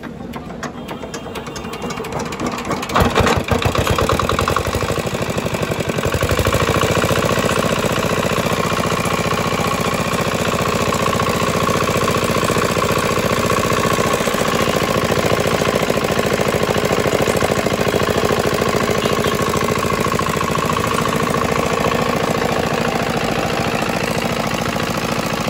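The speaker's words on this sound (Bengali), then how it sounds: "চলুন প্রথমে আপনাদেরকে স্টার্ট করে ইঞ্জিনের সাউন্ড কোয়ালিটিটা শোনাই" An old Chinese diesel engine, small horsepower, is cranked with a brief rattling burst and then starts, settling into a loud, steady, close-up running chug with a rhythmic knock that holds for about twenty seconds.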